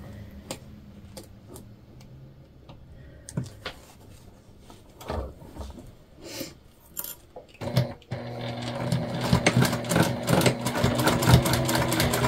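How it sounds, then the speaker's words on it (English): Sewing machine stitching across the boxed corner of a tote bag made from dish drying mats, starting as soft intermittent ticks and clunks, then running as a louder continuous mechanical whir over the last few seconds. "Now we're just going to sew across our boxed corner."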